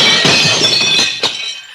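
Glass shatters and clinks in a kitchen as a staged story sound effect, with a bright crash followed by a second smaller tinkle as fragments settle.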